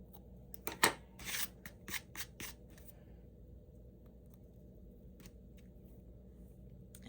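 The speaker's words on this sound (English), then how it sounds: "So I'm just going to trim off some of this excess here." Scissors trimming excess fabric for a kinusaiga piece, a few quick close snips in the first few seconds, then quiet room hum with a faint stray snip.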